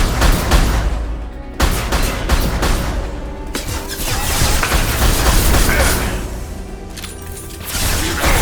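Turret gunfire in the Mass Effect video game, a loud sustained barrage of rapid shots and mechanical booms filling the whole clip, with brief dips between bursts.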